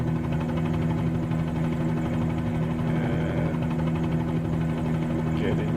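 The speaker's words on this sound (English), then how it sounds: "I forgot to fly helicopters, that's for sure." Helicopter engine in Microsoft Flight Simulator 2020: a steady, continuous mechanical drone with a low throbbing hum holds unchanged throughout, moderately loud and close.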